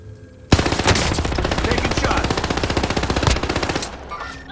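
A Tommy Gun firing in a video game: a sustained rapid burst of automatic gunfire, loud and close, with a sharp shot at the start and end before trailing off.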